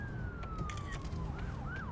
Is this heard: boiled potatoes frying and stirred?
no